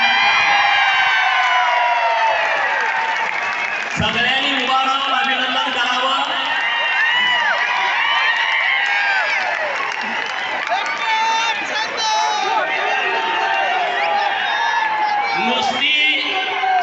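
Large crowd at a political rally in Ahilyanagar, with sustained loud applause, cheering and whoops, dense and continuous throughout, with shouted voices mixed in.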